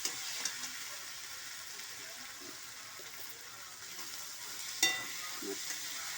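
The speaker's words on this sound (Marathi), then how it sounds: "चांगली भाजून घ्यायची मस्त खूप वेळ लागतो जरा कांदा भाजायला" Chopped onion fries in a pan with a steady, close sizzle while a spoon stirs it now and then, and a brief scrape stands out near the end.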